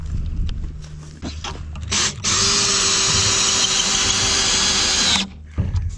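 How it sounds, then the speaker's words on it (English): A Walmart cordless drill, Hyper Tough or brushless Hart, whines at high speed for a few seconds, driving a screw, with short starts and clicks before and after the sustained run. "I'm going to sink a couple extra screws in just to test each drill"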